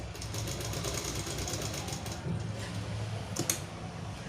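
A sewing machine runs steadily as it stitches a fabric seam along a drawn line, a continuous close mechanical whir with a faint rhythmic patter, stopping briefly near the end before picking up again.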